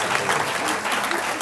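Steady applause from an audience at a political convention panel, a dense continuous patter of many hands with a faint murmur of voices underneath.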